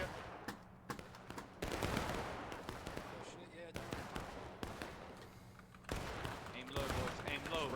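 Musket volleys from line infantry in a Manassas campaign battle game crack out as repeated sharp bursts and ragged firing, layered over steady battlefield din while someone talks throughout.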